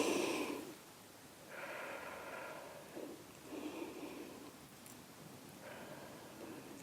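Slow, audible breaths drawn and released while holding a lower-body Pilates floor stretch, several soft inhale-exhale cycles spaced a few seconds apart, close and quiet with no talking.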